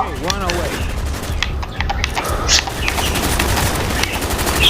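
Fast rattling gunfire in Call of Duty Black Ops fills the scene in dense bursts, with a player's voice briefly breaking in over the shooting.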